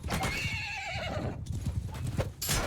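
Horses neigh and whinny over a steady clatter of hooves in a medieval battle video game, with a long drawn-out whinny early on and more hoofbeats and neighs toward the end, all fairly loud and close.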